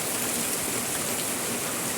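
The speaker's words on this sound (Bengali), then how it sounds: "ছন্ন ছাড়া ঝমঝমিয়ে বৃষ্টি হচ্ছে।" Heavy rain pouring down on a cloudy afternoon, a dense, continuous hiss of downpour with no break, loud and enveloping throughout.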